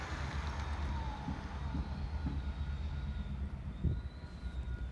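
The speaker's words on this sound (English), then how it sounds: "I think passenger train needs to go over and pick up some passengers" An HO scale model passenger train runs on a home layout, giving a steady low rumble with faint clicking of wheels over track joints throughout, no voices.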